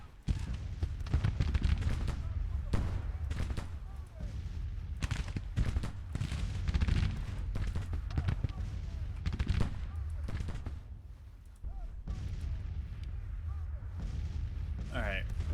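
Gunfire and artillery in the Grand Tactician: The Civil War video game, a dense run of cracking shots and booming volleys that rise and fall throughout, with someone talking over the battle at times.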